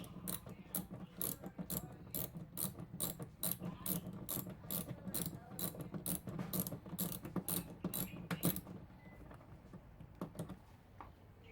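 A 10 mm socket ratchet backs out a tail light bolt on a 2004 Toyota Sienna, its rapid clicking pawl ticking in steady close bursts for about eight seconds before stopping, with no talking.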